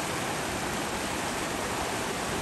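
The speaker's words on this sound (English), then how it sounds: "Hopefully you guys can hear me okay over the sound of the water." Steady, dense rush of a stream flowing on a spring snake and salamander hunt around metro Atlanta, an unbroken broadband wash of water filling the whole stretch with no voices.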